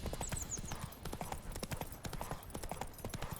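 Roach, a horse in The Witcher 3: Wild Hunt, gallops with a steady, rapid clip-clop of hooves close by and continuously loud, while faint game sounds play underneath.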